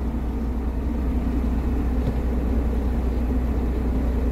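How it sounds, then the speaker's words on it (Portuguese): A truck engine running after finally starting, a steady low rumble holding at an even level, heard close with no voices. "o caminhão funcionou, pegou."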